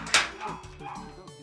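A dog barks once sharply near the start, followed by brief yips and whimpers mixed with people talking nearby.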